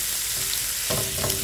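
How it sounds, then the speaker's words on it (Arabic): Minced garlic fries in about four spoons of oil for an Egyptian-style garlic tempering, a steady close sizzle that swells in bursts as it is stirred. "وحطينا عليهم راس توم مفرومه زي ما انتم شايفين كده، هنعمل حاجه زي الطشه"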